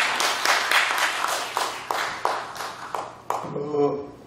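A short burst of audience clapping at a Korean panel discussion, several rhythmic claps fading out, followed by a brief tonal chime.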